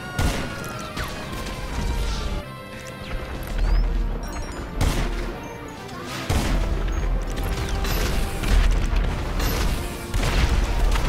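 Dense, loud bursts of gunfire from the video game GTA Online rattle almost without pause, with crashing impacts and booms layered over a constant roar of game noise.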